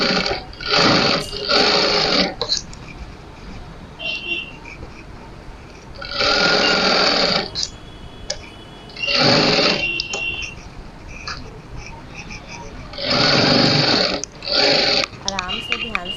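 A sewing machine stitches a princess cut blouse in four loud bursts of rapid motor whirring and needle clatter, with quiet pauses between them.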